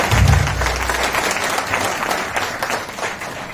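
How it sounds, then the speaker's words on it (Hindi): A crowd at a women's celebration gathering in Meham applauds loudly, a dense, sustained roar of clapping from many hands close by, beginning with a low rumble and holding steady throughout. "एक बार अपने लिए महिला शक्ति के लिए तालियां।"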